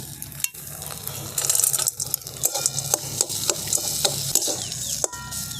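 Spiced potato filling mixed with peanut powder for layered kachori, stirred in a pan with steady scraping strokes over a faint background sizzle, close and moderately loud, no talking.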